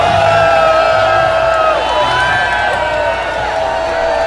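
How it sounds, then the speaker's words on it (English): Large crowd of onlookers booing and shouting at a man running through the streets of New York City, a dense continuous roar of voices with whoops, steady and loud throughout. "he's running through New York City, and he's getting booed"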